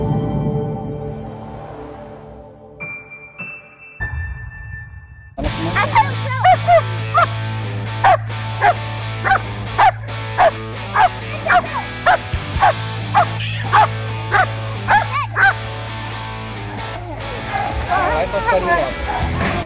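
German Shepherd protection dog barking in a rapid, regular series of sharp barks over a steady low hum, starting after a few seconds of tonal music-like sound, fairly loud and close.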